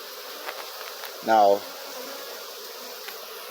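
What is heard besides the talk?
honeybees buzzing around an open beehive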